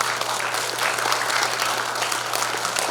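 Sustained, dense clapping from a seated audience at a Democratic Party regular delegates' convention in Jungnang, even and continuous for the whole stretch with no voices over it.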